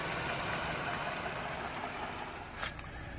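A 2017 Chrysler Pacifica Touring L minivan engine idles steadily with a smooth, even hum and faint mechanical ticking, heard up close with no voices.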